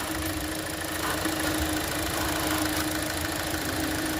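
A 2018 Hyundai Elantra engine idles with a bad motor mount, giving a steady, loud droning hum with a constant low buzz and vibration that holds evenly throughout, with no voices.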